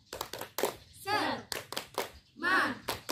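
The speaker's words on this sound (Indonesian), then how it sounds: "Ayo, kita tepuk tangan" A classroom group of children clapping hands together in quick bursts of sharp, rhythmic claps, interleaved with children's voices chanting along.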